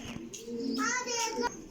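Breeder pigeons in a loft coo close by, a short throaty call over faint children's voices and background talk.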